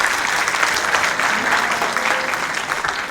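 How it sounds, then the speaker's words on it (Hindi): An audience at a guest lecture applauds, with a sustained burst of many hands clapping at a steady loudness throughout. "तो इसके लिए पहली बात तालियां बजाएंगे।"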